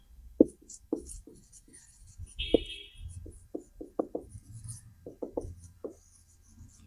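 A pen writing an answer on paper: close, quiet scratching strokes in short irregular bursts with small pauses between words, and no speech over it.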